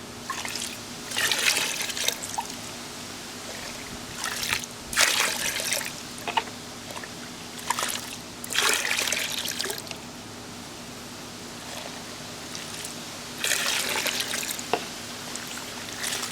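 Water pouring into a container to rinse it out, several bursts of splashing and gushing separated by quieter gaps with a steady low hum underneath.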